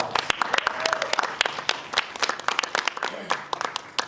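Modest, somewhat sparse applause from an audience at a state superintendent town hall, individual claps distinct and uneven, fading in intensity over a few seconds.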